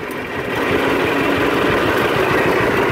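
John Deere model 60 tractor engine with a sickle bar, rising then holding a loud, steady chugging roar as the throttle opens, close and continuous.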